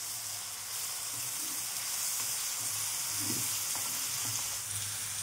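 Ginger and garlic paste frying in a pan for beet chicken, a steady soft sizzle with faint stirring scrapes throughout, no voices.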